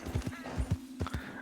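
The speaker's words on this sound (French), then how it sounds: "Attention aux chevaux." Horse hooves clip-clop in an uneven rhythm, close and fairly loud, with a brief whinny-like tone partway through; Red Dead Redemption 2 game ambience hums underneath.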